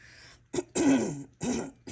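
A person indoors in the early morning gives a short cough followed by rough, grating throat clearing in a few separate bursts, close to the microphone, with quiet pauses between them.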